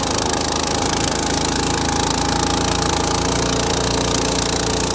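A boat motor revs loud and close on a river, a steady throbbing drone with heavy low rumble and vibration throughout, no talking.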